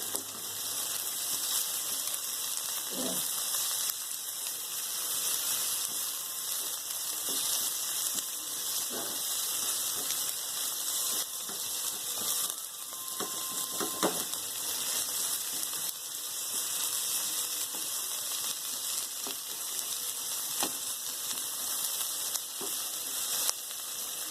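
Onion, bell pepper and tomato sauté in a pan over a high flame for Indian-style white sauce pasta, giving a steady close sizzle throughout with occasional soft clinks of a spatula, and no talking.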